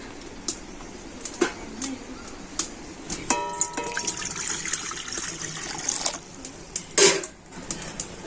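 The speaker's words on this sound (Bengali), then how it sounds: "প্রথমে আমি কড়াতে দিয়ে দেবো জল" Water trickles and splashes into a wok at a home cooking setting, a soft uneven pour with light clinks, faint birdsong in the background.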